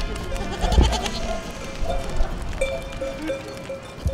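Goats bleat on a pasture in a village setting, a few short nasal calls rising out of a busy outdoor background with faint hoof clatter and some human talk nearby.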